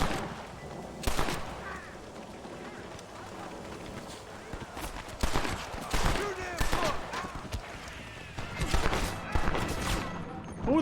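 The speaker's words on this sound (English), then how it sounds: "Who the fuck is shooting?" Gunfire in the video game Red Dead Redemption, with several sharp shots and short bursts scattered across the scene among hoofbeats and movement, while people talk over it.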